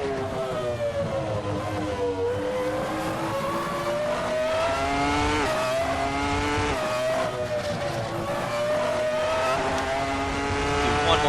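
Ferrari F310 Formula 1 car from Assetto Corsa, its high-revving engine screaming continuously through upshifts and downshifts on a flying lap, loud and close with the pitch rising and falling through the gears.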